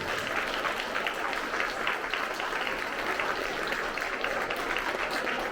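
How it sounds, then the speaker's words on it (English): Sustained applause from a crowd at an honor roll ceremony, steady dense clapping at a moderate distance with no pauses. "Let's give these folks a round of applause."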